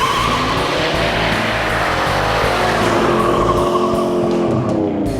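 A 1967 Pontiac LeMans muscle car roars loudly as its engine revs hard and its tires squeal, a steady, dense burst of engine noise and rubber screech close by with no talking.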